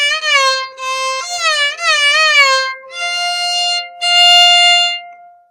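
A Carnatic violin plays a gamakam phrase from the Mohanam geetham Vara Veena, with sustained bowed notes that slide and oscillate between pitches over several phrases, clear and close with no talking.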